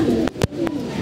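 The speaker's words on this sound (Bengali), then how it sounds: "কবুতর" Domestic pigeons coo in a low, throaty warble during hot, humid weather, with a couple of sharp broadband knocks or flutters cutting across the soft call, all at close range.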